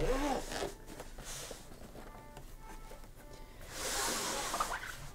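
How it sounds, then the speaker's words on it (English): Zipper on a Keyboardio Model 100 keyboard case being drawn, two quick rasping zips at the start and end with a slower drag between, close and fairly quiet. "This is a zipper that prevents dust getting inside."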